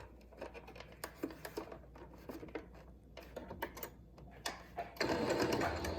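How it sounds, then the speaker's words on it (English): A sewing machine stitches a fabric mask along its metal nose piece with quiet, close running bursts broken by small clicks and handling sounds, then the motor runs louder and more steadily at the end. "Again, find the edge of your metal so you don't sew through it."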